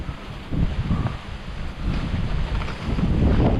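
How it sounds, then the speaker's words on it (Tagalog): Wind gusting outdoors around a banana plantation, a loud rumbling buffet on the microphone that swells and rises in strength over a few seconds, with no talking. "Wow, hangin na naman."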